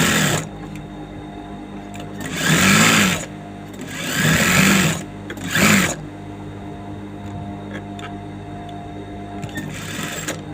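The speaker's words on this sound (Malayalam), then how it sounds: "ഡബിൾ സ്റ്റിച്ച് ഇടുന്നത് കൊണ്ട് നമ്മൾക്ക് പിന്നീട് അതിന് സ്റ്റിച്ച് ചെയ്യേണ്ട ആവശ്യമില്ല" Sewing machine running double stitches along the lining of a saree blouse, three bursts of rapid whirring and needle clatter with pauses between, close and steady over a low background hum.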